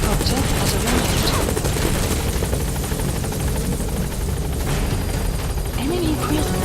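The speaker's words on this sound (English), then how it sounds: "Support helicopter has arrived." Support helicopter arriving in Metal Gear Solid 5: a loud, steady rotor drone with a dense rhythmic chop throughout, mixed with game effects and announcer-style voice audio.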